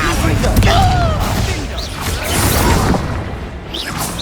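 Expelliarmus and other spell effects crackle and whoosh steadily through a Hogwarts Legacy duel in the Undercroft, dense and loud throughout, mixed with bursts and swishes.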